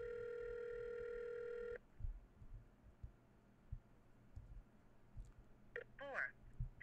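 A telephone keypad tone sounds steadily for almost two seconds, then cuts off to faint room noise and brief voices.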